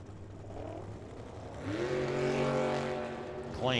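Superstock drag racing cars at Firebird Motorsports Park run down the strip, a low engine drone rising into a loud accelerating roar that climbs in pitch, ending with a sharp rising whine.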